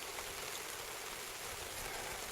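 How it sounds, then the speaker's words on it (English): Steady rain beginning to fall outdoors on a roadside campsite in Orbost, a continuous broadband hiss with no distinct drops standing out, fairly faint and unbroken throughout. "It's starting to rain."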